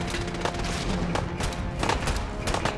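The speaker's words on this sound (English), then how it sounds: "Everyone's firing at him." Several guns fire at a savage Deathclaw in Fallout 4, a dense, continuous barrage of overlapping shots and thuds with no speech.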